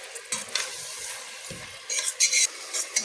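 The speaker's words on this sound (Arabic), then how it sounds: "هي بتتشوح كده، احنا هنشوح البصلة بس" Onion with black pepper sautéing in a hot pan for stuffed cabbage, a steady sizzle broken by several scraping stirs of the spoon, with louder stirring bursts near the end and no talking.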